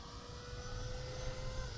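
Electric ducted-fan whine from an E-flite Viper 90mm RC jet on its takeoff run, a steady loud broadband rush with thin tonal lines held over the whole stretch, with no talk.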